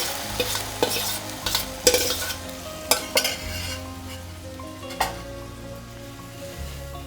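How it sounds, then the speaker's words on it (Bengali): Boiled pea dal poured slowly into a hot pan of cooked tomato and stirred, with a steady sizzle, bright scraping and clinking stirs at irregular intervals, and a low hum under everything. "এবার আমি আস্তে আস্তে দিয়ে দেবো এই সেদ্ধ করা মটর ডালটা।"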